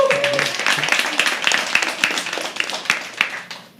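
Open mic poetry audience at The Habitat cheering and clapping, a steady wash of applause with scattered sharp claps and whoops that fades out at the end.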